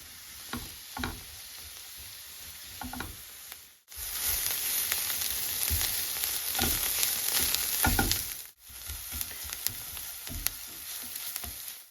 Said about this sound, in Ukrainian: Викладаємо в сковорідку моркву та цибулю. Підсмажуємо трішечки до золотавого кольору.